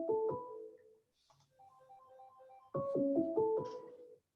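A phone ringtone plays a short melodic phrase, pauses, then a quieter tonal pattern repeats before the loud melody returns, clear and close with no speech.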